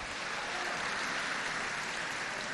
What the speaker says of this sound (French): je demande qu'on applaudisse très chaleureusement